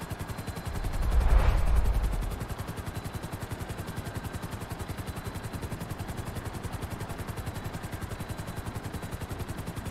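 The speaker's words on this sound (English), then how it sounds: "let me land this helicopter" A helicopter comes down to land in a GTA roleplay game, its rotor a steady rhythmic chop that swells briefly near the start, then settles into a constant thrum, with no one talking.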